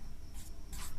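Chalk or marker writing on a board during a maths lesson, two short scratchy strokes close by over a steady background hum.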